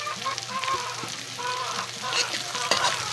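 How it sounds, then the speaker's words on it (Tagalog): Thinly sliced cabbage dropped into a pan of golden brown fried garlic, crackling and sizzling close up with light scraping of a utensil throughout, no voices. "Kapag golden brown na yung bawang, ilagay na natin yung repolyo."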